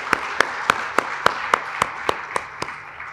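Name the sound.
round of applause for the speakers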